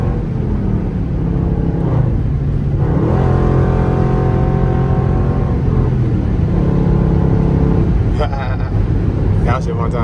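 A Dodge Durango engine revs up and drops a gear in traffic while running alongside a BMW. The deep, loud drone climbs in pitch, then settles into a steady rumble, close and continuous throughout.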